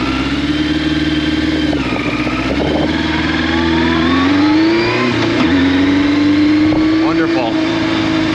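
A Yamaha FZR1000 motorcycle engine runs steadily at a low idle, close and loud, its pitch rising and falling slightly with small throttle blips, and a voice talks over it.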